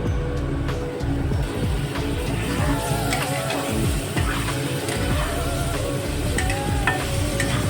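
Chicken kebab pieces coated in masala fry in a pan with ghee, giving a busy, continuous sizzle with scraping and clinking as the pan is stirred throughout.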